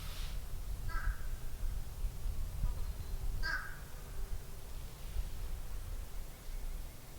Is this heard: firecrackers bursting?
no